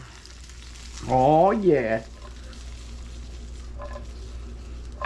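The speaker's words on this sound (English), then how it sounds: "let's let this sizzle up a little bit" Flounder fillet sizzles steadily in a hot frying pan, a soft continuous crackle, while someone briefly speaks over it.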